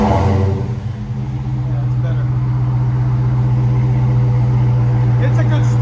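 A Dodge Challenger SRT Hellcat fitted with Black Widow Angry Housewife mufflers rumbles loudly at close range, a deep, steady idle holding after a brief initial burble.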